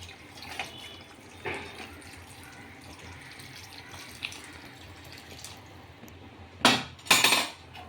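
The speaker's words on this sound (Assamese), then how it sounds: "ভজা হৈ গ'ল, এতিয়া মই পানী দিম অকণমান" Water is splashed into a pan of frying local chicken, two loud hissing bursts near the end after quieter clatter from the pan and utensils.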